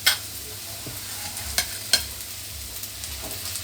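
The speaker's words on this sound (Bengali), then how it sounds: "আমি সব কিছু খুব ভালো করে ভেজে নেব এখন" Onions sizzle softly in a pan while a spoon stirs them, with a few sharp scrapes and taps against the pan.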